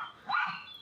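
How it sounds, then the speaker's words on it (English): A dog barks once in the background, a short mid-loud yelp-like bark that stands out from the quiet outdoor scene while a bushcraft walking stick is being whittled nearby. "I think the barking stopped now."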